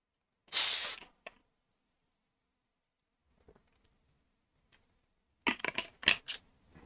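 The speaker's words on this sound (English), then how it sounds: "That was the sound of chocolate." A loud, brief crackling burst of a substantial chocolate bar being snapped or unwrapped, followed after quiet by a cluster of sharper crinkling and snapping sounds.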